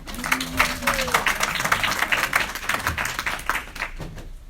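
An audience applauds after a woman is invited up to speak, dense rhythmic clapping from many hands close by, steady for several seconds before tapering off.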